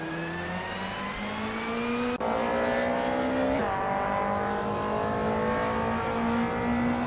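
A 1995 Volvo 850 racing in a video game, engine humming steadily with a sharp gear change partway through and rising pitch after, loud and close without talk.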